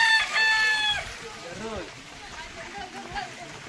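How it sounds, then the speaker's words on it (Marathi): A native village rooster crows once up close, its long stretched call filling the first second, followed by shorter clucks and calls from farmyard fowl in an outdoor courtyard, with no talking. "बघा गावठी कोंबडा, ऑर्डर दिली तर मिळेल।"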